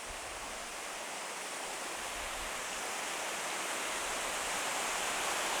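A waterfall rushes in a steady, broad roar of falling water, loud and continuous throughout with no voices.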